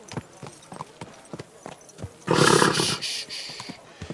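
Horse hooves clip-clop at a walk through a medieval town street in Kingdom Come Deliverance II, a series of distinct, evenly spaced steps, followed by a loud, brief whinny-like burst midway.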